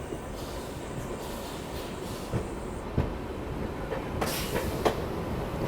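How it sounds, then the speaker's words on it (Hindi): A train rolls into New Delhi railway station, wheels rumbling and clattering over the rails with scattered clanks and a brief metallic squeal, heard from a bridge at moderate distance with no voices. "यहाँ से कोई तो गाड़ी आ रही है जो कि नई दिल्ली रेलवे स्टेशन पर अराइव कर रही है"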